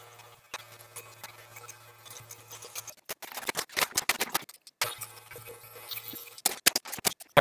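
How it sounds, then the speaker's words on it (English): Scissors snip through thick, dark Asian hair during a home haircut, the close crisp cuts coming in quick bursts after a quiet start, with faint rustling and no talking. "And then you just kind of use the scissors to cut off the excess."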